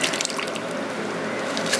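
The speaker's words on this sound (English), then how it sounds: "We're pouring this mixture into this bowl." A liquid mixture pours into a bowl while cooking, giving a steady, close splashing and trickling flow that runs the whole short stretch without talk.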